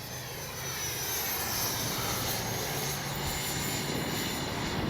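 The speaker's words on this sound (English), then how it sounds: "Great flying jet. Makes a perfect first EDF for sure." An Arrows 64mm Marlin RC EDF jet streaks past doing touch-and-goes, its ducted fan whining steadily with a broad roaring rush that swells slightly as it nears and holds loud throughout.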